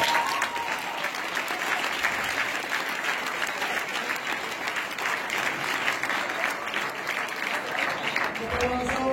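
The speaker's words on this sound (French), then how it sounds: "On les applaudit." An audience applauds finalists at a ceremony with dense, continuous clapping that stays even and full throughout, while faint voices and a brief sung or spoken tone rise near the end.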